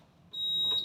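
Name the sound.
Erkodent ES 200 F machine buzzing signal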